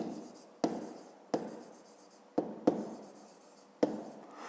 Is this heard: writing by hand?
yes